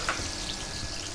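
Chili paste with blended onions sizzles and fries in hot oil, a dense steady crackle close and fairly loud, no talk.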